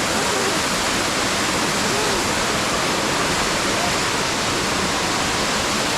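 Katiki Waterfalls in Araku pour in a loud, constant roar of rushing water, dense and unbroken throughout, heard up close with no clear speech over it.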